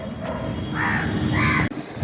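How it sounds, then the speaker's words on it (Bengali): Crows caw loudly and close by, two or three harsh drawn-out calls in a short burst over a faint outdoor background. "দেখো কতগুলো কাক চলে এসেছে"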